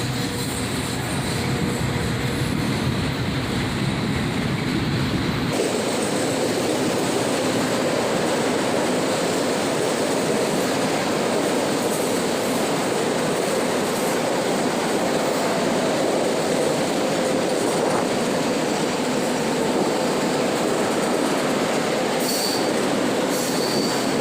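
A CSX freight train with an old Union Pacific locomotive rolling past, loud and close, its wagons rumbling steadily and wheels squealing in a long continuous roar.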